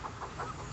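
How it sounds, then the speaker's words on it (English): Farm chickens cluck in a brief burst of soft, close clucks, a few quick calls over a low background hum. "I gotta get in here and water these chickens."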